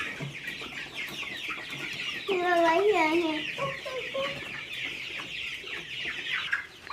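Chickens cluck and murmur inside a chicken coop, a busy close chorus of overlapping calls with one louder, rising cluck in the middle; no one speaks.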